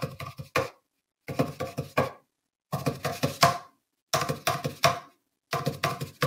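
Paper towel rolls knocked together imitate clattering bamboo stalks, giving quick, hollow wooden taps in five short rhythmic bursts separated by brief silences.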